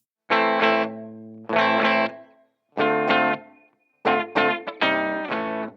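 Guild M-75 Bluesbird electric guitar chords strummed on the bridge pickup in short bursts with gaps between them, a bright, slightly driven tone with a touch of modulation, no voices.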